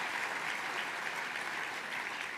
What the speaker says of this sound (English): a round of applause for the MAPS 3 trail